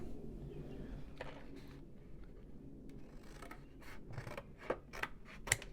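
Hand-cutting material for a rustic wooden craft piece such as signs or shutters, heard as quiet scissor-like snips and rubbing scrapes over low room noise, with several sharper clicks clustering toward the end.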